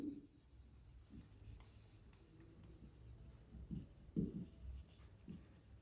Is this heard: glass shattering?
no